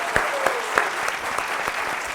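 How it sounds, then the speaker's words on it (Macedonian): Studio audience applause for Peppermint on the talk show Еден на Еден, brisk and steady with a few sharper individual claps standing out, no speech. "аплауз за Пеперминт"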